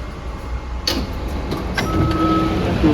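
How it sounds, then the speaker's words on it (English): Doors on a PATCO Speedline train slide open with a sharp clunk and a whoosh, followed by a rising chime-like tone over steady rail car hum, close and fairly loud. "Doors open."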